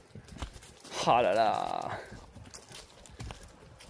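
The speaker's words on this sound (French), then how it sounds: "je suis là à marcher avec mes ânes" Donkeys walk along a travel trail with soft, irregular hoof steps. A person speaks over them, and a long drawn-out vocal exclamation stands out in the middle.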